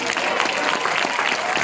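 Audience applause at a live spoken-word poetry event in a church temple, a dense, loud wash of clapping filling the short moment without pause.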